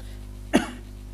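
One short, sharp cough from a person in smoggy Lahore with a smog allergy, heard alone and close over a faint steady hum.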